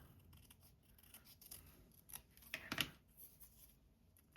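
Scissors snip through a fabric swatch, a few faint cuts building to one crisp close snip, quiet with no talk.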